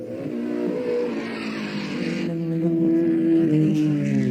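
Race cars at practice for the 1965 Targa Florio road race in Sicily, engines droning and revving steadily with a rising note and faint tire squeal, loud and continuous.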